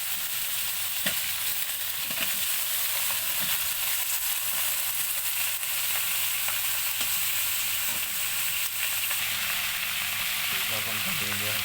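Cauliflower and potato pieces fry in hot oil for an egg, potato and cauliflower curry, giving a steady, dense sizzle with occasional stirring scrapes and clicks, close and continuous throughout.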